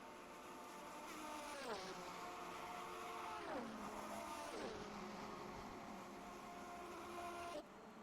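Several race cars in a sim-racing game of the 1988 Daytona 250, their engines droning steadily with rising and falling pitch as they shift and pass, one car going off near pit entry; continuous and fairly loud.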